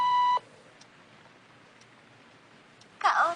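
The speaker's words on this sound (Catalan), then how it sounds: "deixi el nom i el missatge després del senyal." An answering machine gives one short, clear electronic beep before a message is left. Quiet line hiss follows, then a voice starts speaking near the end.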